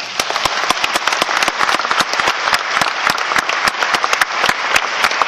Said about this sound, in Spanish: Y yo quiero un fuerte aplauso para él.